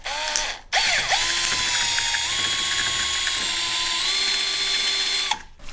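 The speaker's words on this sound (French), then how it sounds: "Comme ça, on va pouvoir venir percer pile poil à cet endroit-là." A power drill runs steadily for about four seconds while drilling into a wall to pre-drill holes for laying herringbone parquet, its whine shifting pitch slightly partway through, loud and close with no talking.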